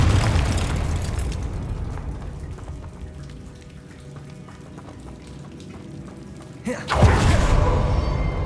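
A Confringo fire spell explodes in Hogwarts Legacy, a sudden loud broadband blast near the end that cuts through a steady rain-like crackle and rumble of fiery ambience.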